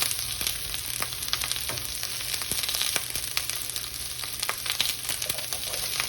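Onion sizzles in a stir fry pan, a dense, steady crackling hiss with scattered sharp pops and occasional stirring clicks, close and continuous with no voices.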